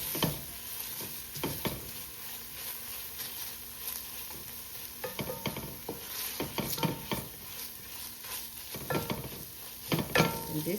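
A spoon stirs tomato paste into stewed beef in a pot on low heat, with repeated scraping and clinking strokes over a soft, continuous sizzle.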